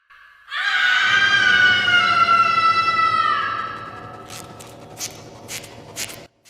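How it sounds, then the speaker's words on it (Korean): A woman's long, loud scream rises and holds for about three seconds, then fades into a faint scuffle with a few sharp knocks, heard at night in a town square with a fountain. "그때 어디선가 비명 소리가 들려왔는데요."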